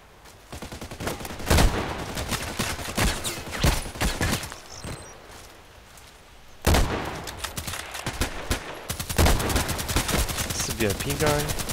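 Rapid gunfire in a video game, bursts of sharp automatic shots in fast rhythmic strings with a few short pauses, loud and close, over roughly twelve seconds.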